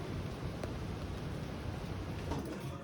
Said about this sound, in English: A little rainy day in paradise, but the storm will probably pass in a few minutes.